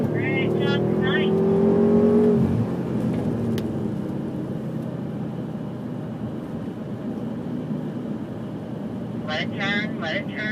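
A BMW M5 accelerates hard on a driving school track, its engine note climbing loudly and steadily before easing off into a continuous roar, while an instructor's voice speaks over it.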